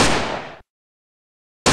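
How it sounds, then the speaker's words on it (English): A gunshot sound effect used in building a hip-hop beat recreating Travis Scott's HYAENA gives a loud, harsh burst that decays over about half a second, then dead silence, then a second blast cuts in abruptly at the very end. "Gunshots."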